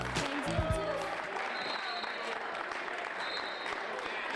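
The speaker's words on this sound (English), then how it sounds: "Crowd showing their support for this young lady." Crowd at a women's extreme wrestling event applauding a young female wrestler, a steady wash of clapping and crowd noise with voices mixed in at the start.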